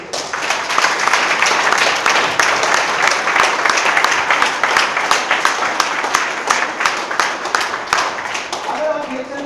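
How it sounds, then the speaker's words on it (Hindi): Applause from a training-session audience, loud, close and continuous clapping with sharp individual claps standing out, tapering slightly near the end. "एक बार जोरदार तालियां हैं आप सभी लोगों को।"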